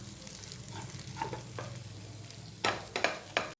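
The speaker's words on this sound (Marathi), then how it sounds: "तुमची कढई जर मोठी नसेल तर वांगे काढून हा मसाला व्यवस्थित परतूनही घेऊ शकता" Masala being sautéed in oil in a kadhai for a brinjal dish: a steady close sizzle with a spoon scraping and stirring, growing louder with sharper strokes near the end, no voices.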